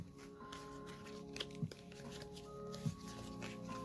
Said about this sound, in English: I'm going to just see what comes out when I shuffle